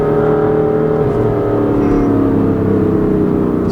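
A 2016 BMW M3 with DCT gearbox, mid-pipe and tune, its engine droning loud and steady from inside the car, with rising harmonic tones as it pulls under power.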